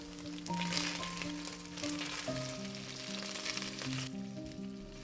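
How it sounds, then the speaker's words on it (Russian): Chicken pieces fry in a pan alongside cabbage, a steady close sizzle and crackle of hot oil running throughout, with faint melodic background music underneath and no talking. "Переворачиваем и жарим с другой стороны, тоже до красивой золотистой корочки."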